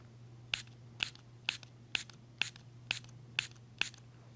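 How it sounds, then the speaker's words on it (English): Core Keto oral spray pumped eight times in a steady rhythm about half a second apart, each a crisp, close, short hiss over a faint background hum. "I'm going to spray it in front of you guys."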